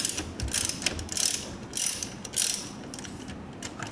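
Hand ratchet working loose the negative battery terminal nut on a C8 Corvette, a fairly close series of quick clicking bursts with short pauses between them, no talking.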